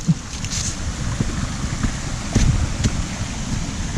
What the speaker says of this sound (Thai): ตรงนี้เป็นน้ำตกครับน้ำตกสวยครับ